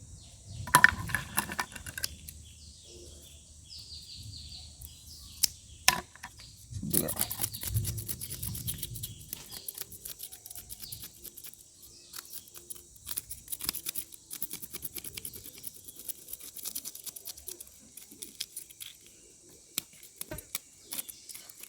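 Fins being cut off a fish during cleaning and skinning: a sparse series of soft snips and small clicks scattered across a quiet background, with no talking.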